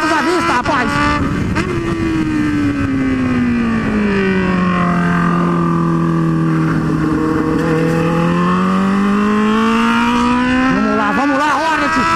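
A Honda Hornet motorcycle fitted with a quick shifter roars loudly up close under constant wind rush. Its engine pitch sinks smoothly, then climbs again in a long pull, with a brief choppy burst near the end.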